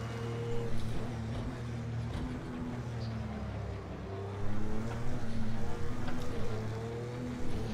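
An Audi race car in the racing game Project Cars 2 drones along steadily, its engine tone shifting as it brakes hard and then picks up again, a continuous loud mechanical hum with a surge partway through.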